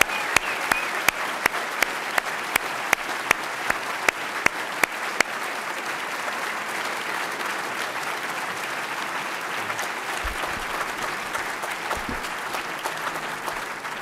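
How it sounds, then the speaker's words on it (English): An audience at the NAE induction ceremony fills the hall with dense, sustained applause, with sharp individual claps popping out near the start before the clapping settles into an even, continuous roar. "Let's give the entire class of members and farm members one more round of applause."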